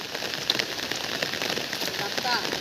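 Rain falls steadily in wet-season weather, a dense close patter of drops striking surfaces with an even, unbroken hiss throughout the short stretch.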